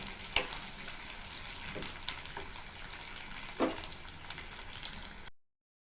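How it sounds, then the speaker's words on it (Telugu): Dried fish fry in a hot pan with a steady, close sizzle, broken by a few scraping stirs, before the sound cuts off. "ఎండు నెత్తళ్ళు వేశాక మంచిగా వేయించుకోండి."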